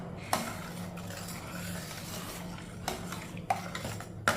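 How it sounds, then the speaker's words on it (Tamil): Bottle gourd and radish soup stirred in a pot, a spoon scraping and knocking against the metal in a few sharp clinks over a soft steady simmer, close by with no talking. "இப்போ எல்லாத்தையும் நல்லா மிக்ஸ் பண்ணிக்கிடுவோம்."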